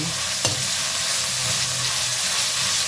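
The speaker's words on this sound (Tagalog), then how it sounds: "Magluto ko og ginisang gulay." Vegetables sautéing in a pan for ginisang gulay, a loud, steady hissing sizzle that fills the clip, with one brief clink of a utensil near the start.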